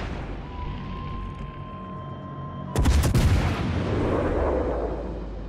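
Warship artillery fire in World of Warships: Legends, a sudden heavy booming salvo bursting in midway, followed by a long rumbling roar that slowly fades.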